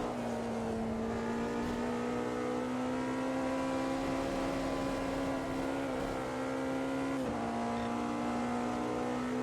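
Race car engine in Automobilista 2 at Le Mans, a steady loud drone held in one gear through a long section, with a brief dip and shift in pitch near the end.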